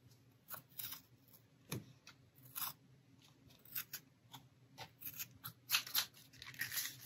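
Scissors trim paper for a handmade autumn envelope gift booklet, producing a series of crisp, close snips at an uneven pace with faint rustling between cuts, quiet and without voices.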